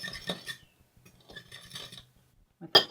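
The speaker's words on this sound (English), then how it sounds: "I'm going to put them in and kind of just mix them up with the" Eggs mixed into gluten-free cornbread flours with a utensil in a bowl, heard as soft, intermittent scraping and clinks, close and quiet, with a louder clatter at the end.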